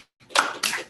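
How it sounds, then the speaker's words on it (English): An audience claps for Kaleb after his presentation. After a moment of silence, three short, loud bursts of hand clapping follow one another closely. "Give him a round of applause."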